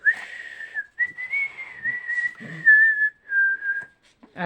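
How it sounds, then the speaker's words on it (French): A woman whistles a bright, wavering melody in several phrases with brief pauses, close and clear, with faint rustling between notes. "je siffle, je chante fort"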